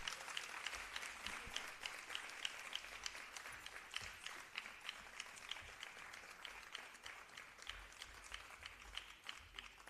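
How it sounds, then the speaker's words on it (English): Audience applause at a Bharatanatyam arangetram dance recital, honoring the evening's MC: steady, dense clapping from a large crowd that holds at an even level for the full stretch, fairly distant and without talk. "Please give her a huge round of applause."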